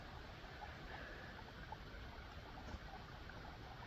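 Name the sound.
creek flowing at a hiking crossing, Shawnee National Forest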